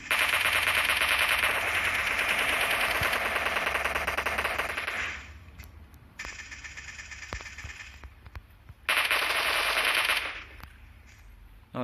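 Rapid machine-gun bursts from the PUBG video game: a long sustained volley, a pause, then two shorter bursts of sharp, dense gunfire, loud and crisp with no talk over it.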